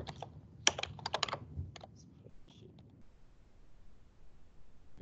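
Fingers tapping out a word on a computer keyboard, a quick burst of close, sharp key clicks for about two seconds, then a few stray taps and quiet room noise.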